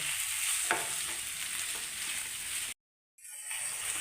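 Ivy gourd stir-fry with garam masala sizzles steadily in a pan while being stirred and mixed, close and fairly loud, with a brief drop to silence partway through before the frying resumes.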